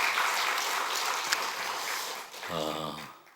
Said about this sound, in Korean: 다시 한번 감사의 박수 한번 하시면 감사하겠습니다